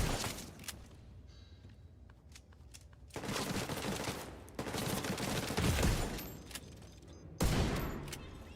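Bursts of automatic gunfire in the video game The Division 2, loud clusters of rapid shots separated by brief quieter gaps, with a heavy final burst near the end.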